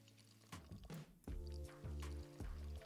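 Beer being poured into bottles in Beer Manufacture Simulator, a video game: several short gurgling pours in a row, each a rising liquid tone with brief pauses between them, fairly quiet.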